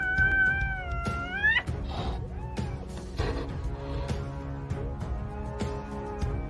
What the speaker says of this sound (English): the mother cat repelled it with a vicious forehand